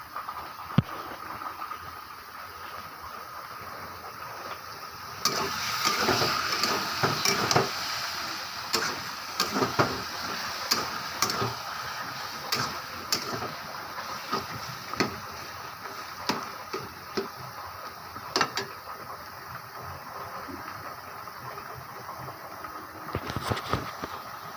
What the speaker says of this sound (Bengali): এই যে আমাদের পাল্লুম ঘর, মেশিন তাঁত বোনা,